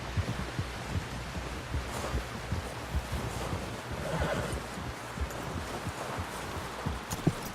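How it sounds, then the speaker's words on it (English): A horse in the Red Dead Redemption 2 video game snorts and whinnies amid low thumping hoofbeats and rumbling effects, moderately quiet with a few sharper accents near the end. "Someone help John down off this horse."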